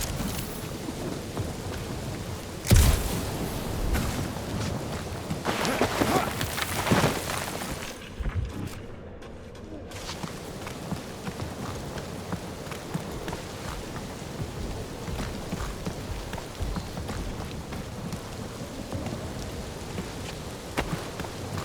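Steady rain falls in the Marvel's Guardians of the Galaxy video game, with a few louder rumbles and cracks of thunder early on and a brief quiet gap midway.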